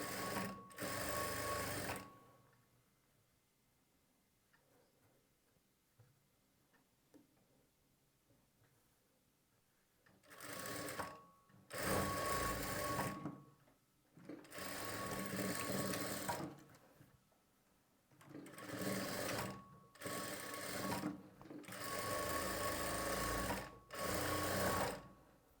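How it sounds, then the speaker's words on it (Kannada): A sewing machine runs in reverse along a blouse side seam in several short bursts of rapid mechanical stitching, separated by quiet pauses, close and fairly clear with no talking. "ಹಾಗೆ ರಿವರ್ಸ್ ಮಾಡಿಕೊಂಡು ಇನ್ನೂ 2 ರಿಂದ 3 ಸ್ಟಿಚ್ಚನ್ನು ಸ್ಟಿಚ್ ಮಾಡ್ಕೊಳ್ಬೇಕು."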